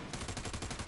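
Rapid automatic gunfire in the PS4 shooter America's Army Proving Grounds, a quick burst of about ten evenly spaced shots, faint and brief, with no voices.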